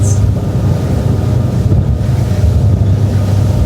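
A Nimbus T11 motorboat runs flat out at over 40 knots, its steady loud engine drone and hull rush blending with heavy wind buffeting and spray, continuous and close throughout with no talk.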